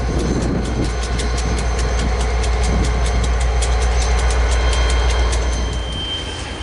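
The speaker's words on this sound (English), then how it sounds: "I really enjoy the sound of an EMD SD 40-2 gearing down as it comes to a stop." An EMD SD40-2 diesel locomotive gears down as it rolls to a stop in a rail yard. A loud, steady low engine rumble plays alongside metallic wheel squeal and rail clatter, then eases slightly near the end.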